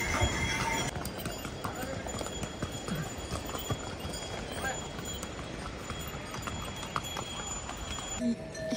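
A mule's hooves clip-clop steadily along the Kedarnath trek, a close, regular rhythm of hoofbeats on the path with voices talking in the background.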